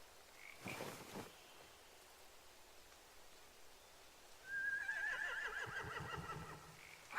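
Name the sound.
horses on a boat, from video game The Walking Dead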